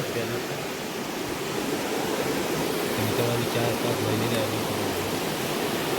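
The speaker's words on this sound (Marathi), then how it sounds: "नदीचा पाणी खलखल खलखल आवाज" Continuous rushing river water flows steadily and close by, a broad gurgling wash with a faint low murmur of voices beneath it.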